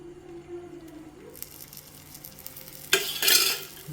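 Rava-coated prawns fry in a little oil on a hot tawa. A quiet hum gives way to soft sizzling that swells into louder, bright crackling bursts near the end, with no talk.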